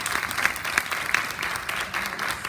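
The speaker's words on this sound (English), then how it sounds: "Everyone, please give our presenters another round of applause" Steady, moderately loud applause from an audience for presenters at a panel on African American financial institutions, an even wash of many hands clapping with no speech over it.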